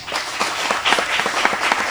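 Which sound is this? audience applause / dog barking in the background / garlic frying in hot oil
audience applause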